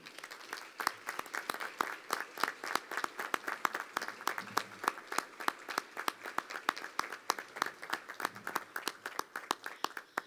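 An audience at a school board meeting gives a round of applause for students, many hands clapping in a brisk, even rhythm that carries on steadily for about ten seconds at moderate distance.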